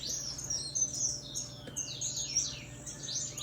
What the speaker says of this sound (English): Lots of noise in there. Lots of beautiful singing in